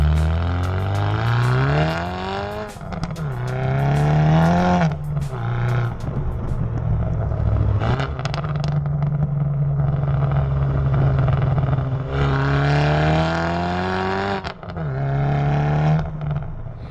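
A 355 bhp hybrid-turbo Vauxhall Astra VXR's 3.5-inch exhaust roars loudly as the engine accelerates hard, pitch climbing through several gear changes with brief dips between pulls, up close and alone.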